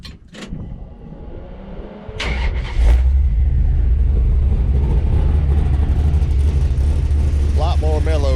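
A Dodge D100 Mopar sleeper pickup with an upgraded exhaust starts up and settles into a loud, deep, steady rumble close by after a few clunks, with a voice briefly heard early on.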